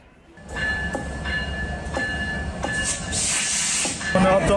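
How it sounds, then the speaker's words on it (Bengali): A train runs across the new Jamuna rail bridge, a loud steady rumble and rattle of wheels and carriages that builds and holds close by throughout. "নতুন সেতুর এই লাইন দিয়ে ট্রেন চলাচল একটি লাইন দিয়ে ট্রেন চলাচল শুরু হয়"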